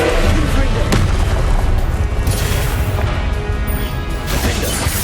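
A Confringo fire spell bursts in the Hogwarts Legacy video game, a loud booming blast with crashing impacts that ring out and fade over several seconds of continuous combat noise.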